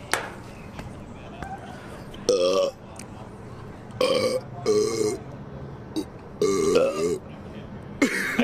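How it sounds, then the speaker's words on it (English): Several loud, throaty burps erupt in irregular bursts during a casual burp contest among friends, with chatter between them. "Burp contest?"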